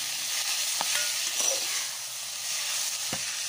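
Tomatoes going into a frying pan of caramelized omena give a steady, soft frying hiss with a few light clinks and stirring touches, close by and with no voices.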